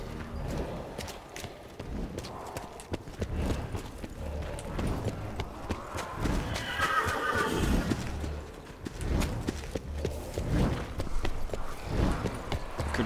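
A Pegasus horse in Black Ops 4 Zombies gives a whinnying neigh midway, amid clip-clopping hoof sounds and busy game noise, with voices faintly present.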